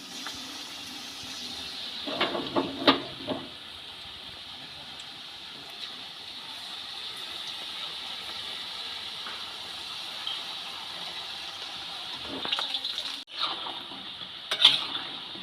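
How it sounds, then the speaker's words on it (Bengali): Batter-dipped soy chunks deep-fry in hot oil with a steady bubbling hiss, broken by a few clattering stirs and scrapes near the start and end. "তেল খুব ভালোভাবে গরম হয়ে গেছে এবার ব্যাটারে চোবানো সয়াবিনগুলো ভেজে নেব"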